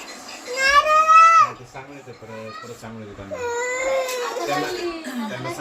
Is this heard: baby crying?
yes